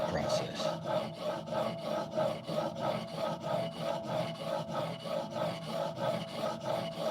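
A knife is honed on a water-lubricated whetstone in steady, evenly spaced rasping strokes, near and continuous, with no voices.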